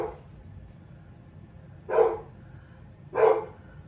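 A chihuahua barks twice, sharp close yaps about a second apart after a quiet stretch, with a faint earlier yelp at the start.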